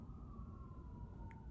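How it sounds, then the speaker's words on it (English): A single emergency siren outdoors holds a steady wailing tone, faint and distant throughout, with no talking. "Sorry, that's a siren."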